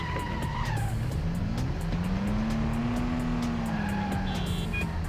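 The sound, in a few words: car accelerating and handbrake turn in Stuntman PS2 video game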